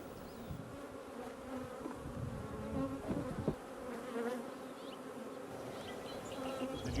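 Honey bees buzzing steadily around a local beekeeper's hives, a dense continuous hum of many insects close by with a few individual bees droning past, no talking.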